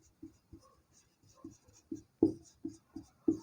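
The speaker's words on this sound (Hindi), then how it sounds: "चलिए लिख लेते हैं।" Pen writing by hand on paper during a Class 9 maths lesson, a series of short scratchy strokes in an irregular rhythm, close and fairly faint, with no talking.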